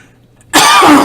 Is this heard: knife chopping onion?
no